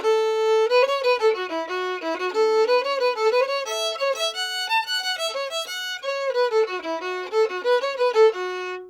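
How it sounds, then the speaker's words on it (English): Solo fiddle plays the lively chorus melody of a song, a quick run of bright bowed notes with slides and ornaments, close and steady for about nine seconds with no voices. "the fiddle part sounds like this"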